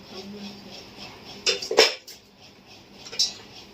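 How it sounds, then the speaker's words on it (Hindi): Dishes and utensils clatter in a home kitchen during washing, a few sharp metallic clinks and knocks of pots and cutlery against a low background hiss, with sparse bursts rather than steady scrubbing. "ये बर्तन साफ कर लीजिए"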